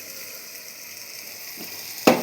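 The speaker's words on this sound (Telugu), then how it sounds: "ఈ మసాలాలు కాసేపు వేయించుకోవాలి." A ground paste of coriander, mint, garlic, green chili and ginger fries in a pan for veg biryani, giving a steady soft sizzle and hiss, ending with a sharp utensil clank near the end.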